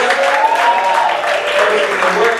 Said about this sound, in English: Give the No Theater a round of applause.